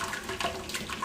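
Excess water drains and splashes from boiled sweet potatoes in a colander, a brief close rush of trickling, spattering liquid with no talk.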